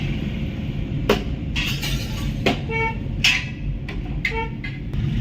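Several short car horn toots, including from a Hyundai Creta behind, sound at intervals over a steady rumble of traffic and engine noise, some near, some a bit farther off.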